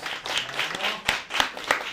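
An audience at a Bulgarian university event applauds a performer, a steady patter of many hands with a few sharper nearby claps, fairly close and continuous.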